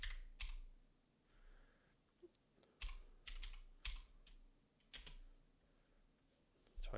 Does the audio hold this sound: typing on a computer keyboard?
yes